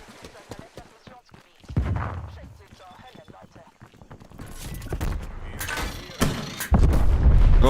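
A grenade explodes in the video game Call of Duty Cold War, with heavy booming bursts and rumbling gunfire over near, loud talking.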